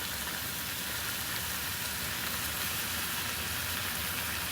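Onion, ginger and garlic paste sautés in a pan for a paneer cheese masala, giving off a constant, even, close sizzle with no pauses.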